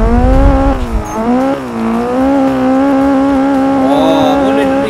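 A Nissan Silvia S15 drifting in Assetto Corsa gives a long, loud, wavering tire squeal over the engine's drone, the pitch sliding up and down as the car slides, with no voices.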